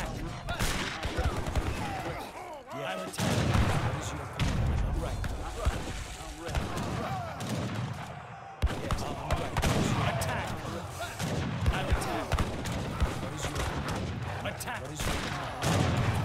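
Booming cannon and gunfire blasts crack repeatedly through a busy video game battle, loud and dense, with people talking over the action throughout.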